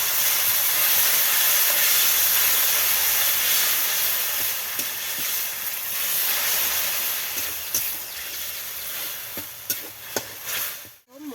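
Tomato paste with ginger paste and spices sizzles in a hot pan for palak paneer, a loud, continuous broad hiss close by, with a few soft stirring clicks toward the end.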